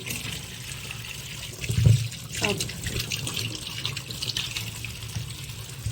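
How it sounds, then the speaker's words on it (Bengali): Vegetables being rinsed under a running kitchen tap, a steady splashing water stream close by with a brief louder gush partway through; a faint voice is heard in the background. "সবজিগুলো এখন এখানে ধুয়ে নিচ্ছি"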